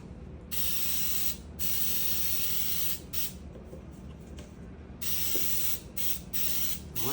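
Short bursts of aerosol spray hiss as a coating goes into a cake pan for a cream cheese pound cake, several close pulses with brief breaks and no talking.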